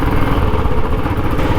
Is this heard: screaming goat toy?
no